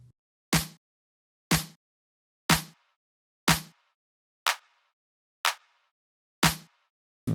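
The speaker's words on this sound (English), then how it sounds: "So I used an EQ to isolate the character of the snare and the drum." Layered snare and drum samples, EQ-shaped to isolate their character, strike eight times at an even one-per-second pulse, each hit loud and punchy with a short decaying tail and silence between.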